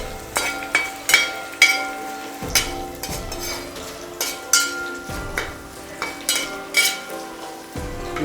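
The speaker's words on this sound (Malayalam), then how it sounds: "തേങ്ങ ചെറുതായിട്ട് അരിഞ്ഞത്, നല്ലതുപോലെ ഇളക്കി കൊടുക്കുക" Chopped coconut stirred and fried in a pan for beef roast, with repeated close scraping of a spoon against the pan over a steady low sizzle, the strokes coming at an uneven rhythm.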